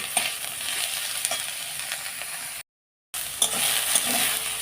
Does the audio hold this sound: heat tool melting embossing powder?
no